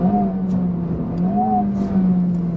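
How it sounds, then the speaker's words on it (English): A 2023 Honda Civic Type R engine rising and falling in pitch with throttle blips while driving, a steady, loud, close-up hum with two gentle swells, no talk. "It has auto blip, which is on, but I'm blipping."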